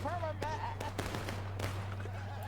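Scattered pistol shots pop in a Civil War–era shootout in War of Brothers, sharp and fairly distant, under a steady hum and a commentator's voice.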